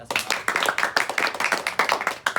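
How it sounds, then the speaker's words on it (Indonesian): Clapping from a small group at a group career counselling practice session, close and fairly loud, with individual claps audible in a quick uneven rhythm. "Oke, tepuk tangan."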